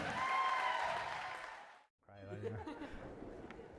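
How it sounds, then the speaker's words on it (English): Applause and light laughter from wedding reception guests, a dense broadband wash of clapping that fades out, then after a brief gap talk and murmuring return. "And one more round of applause to the bride and groom, Benjamin and Alyssa."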